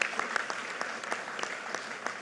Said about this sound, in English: can you give a big round of applause to the President for joining us today?